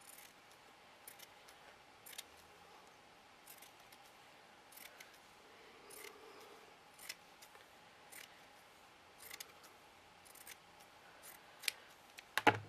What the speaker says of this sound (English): I just cut it to the bottom of the flower.